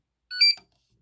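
A single short electronic beep from an RC car transmitter powering on, bright and close, lasting about a third of a second before silence.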